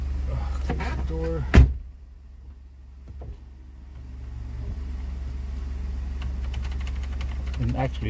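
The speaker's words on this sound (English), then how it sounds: "Close the door." A Ford F-150 pickup door slams shut once, a sharp single thud near the start, followed by a quiet cabin with the engine idling low and a voice briefly at the edges.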